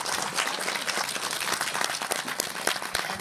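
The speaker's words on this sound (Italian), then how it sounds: "Meritato l'applauso." Lively applause from an audience at a Befana celebration, many hands clapping at once in a steady, close, fairly loud wash with sharper individual claps poking through.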